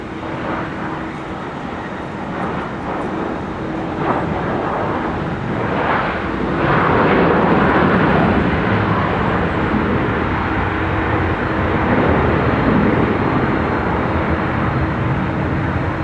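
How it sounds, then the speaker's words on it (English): A Delta Airbus A350-900 arriving from Seoul on final approach to runway 30 left at Minneapolis–St. Paul airport, heard as a steady, loud broadband jet roar that swells slightly midway and holds, with no talk. "Delta 170 Heavy, an A350-900 from Seoul, South Korea on final approach for runway 30 left"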